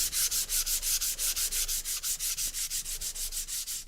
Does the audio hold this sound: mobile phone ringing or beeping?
no